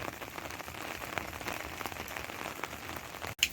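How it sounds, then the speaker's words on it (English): Rain falling during a storm in metro Phoenix, a steady close patter on surfaces with soft scattered splashes and a brief sharp knock near the end. "the rain is still falling"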